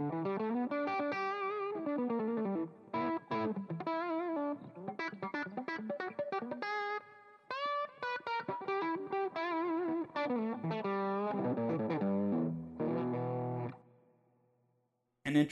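Electric guitar through a tube amp and Ultimate Attenuator, turned down to about loud talking-voice level, plays a run of distorted lines and quick licks, then lets a final chord ring and fade.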